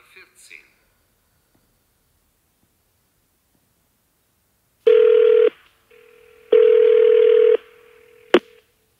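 Telephone line tones before an automated phone announcement at a German adult education centre: a faint rustle, a few seconds of silence, then two loud steady tone bursts, a quieter sustained tone and a sharp click.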